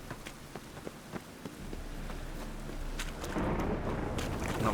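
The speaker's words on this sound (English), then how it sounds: "And it's raining again." Rainfall in The Witcher 3: Wild Hunt, starting as scattered drips and patter that builds into a denser, louder wash of rain toward the end, with no talking.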